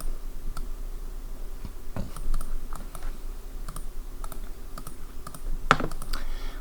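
Someone types on a computer keyboard, a steady run of crisp key clicks at a moderate level with a few louder taps and no talk.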